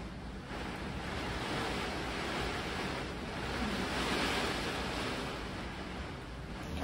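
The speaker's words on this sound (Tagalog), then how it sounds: "Grabe ang lakas talaga ng ulan." Heavy storm rain pours steadily in Dubai, a dense, constant roar with gusting wind swelling and easing, loud and close, with no voices.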